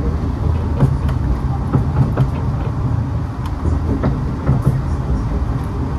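A KA Bogowonto economy train with new stainless steel carriages rolls across the Sakalibel bridge near Bumiayu, giving a steady loud rumble inside the car, broken by sharp clicks and clacks from the wheels at uneven intervals throughout.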